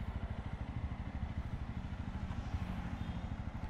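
A Jawa 42 2.1 motorcycle engine runs with a steady, rapid thumping pulse, close and fairly loud, holding an even beat throughout without speech.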